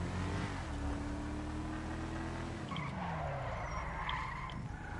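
Car in GTA driving hard and skidding, engine revving with a long tire squeal that falls away midway, followed by road rumble and scattered game noise.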